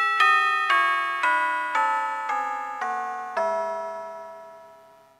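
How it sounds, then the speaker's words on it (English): Eight church bells tuned to the scale of E ring down in a descending peal, each stroke clear and resonant and overlapping the last, with the final bell left to hum and fade. "A peal can be rung on the 8 notes of the scale of E,"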